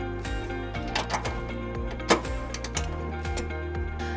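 Carriage bolts on a 2016 Nissan Sentra trailer hitch tightened with a 19mm socket, a steady run of close, rapid ratchet clicks with a few sharper knocks.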